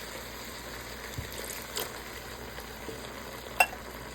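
Tomato sauce and diced tomatoes are stirred in a pot for red lentil jambalaya, giving soft, steady scraping and sizzling with a few faint spoon knocks and one sharper clink near the end.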